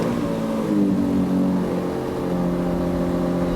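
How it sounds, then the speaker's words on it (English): A car engine in a luxury car collection humming at steady mid revs, rising slightly in pitch as it revs, loud and close with no talk. "Start it up, Davey."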